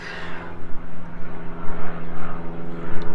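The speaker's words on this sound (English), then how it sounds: "So I'm not going to get away from that airplane noise." Propeller airplane droning steadily overhead near Nashville International Airport, a continuous low engine hum with strong tonal harmonics, fairly loud and unbroken, with no talk over it.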